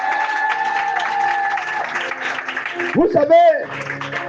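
A church congregation applauds during a Sunday service to acclaim Jesus. The clapping is partly masked by a preacher speaking and by sustained musical tones.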